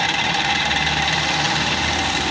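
Small 50cc Motoka engine running steadily just after its first start, a loud, close, continuous buzzing drone with a faint knocking vibration and no talk.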